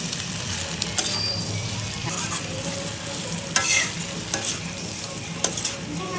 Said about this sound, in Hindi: अब सबसे बड़ा काम होता है इनको भूनना, धीमी धीमी आंच में इनको भूनना पड़ता है